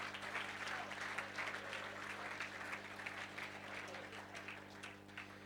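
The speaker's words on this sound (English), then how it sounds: "let's give them a round of applause" An audience at a football blogging awards event applauds steadily, a dense wash of clapping hands that holds at a fairly even level throughout, heard from a little distance.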